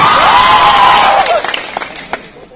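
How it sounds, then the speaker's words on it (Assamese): Audience applause rushes in as a dense wash of clapping, then thins out into a few scattered claps before fading away. "সকলোৱে হাত তালিৰ বাবে অনুৰোধ জনাইছো।"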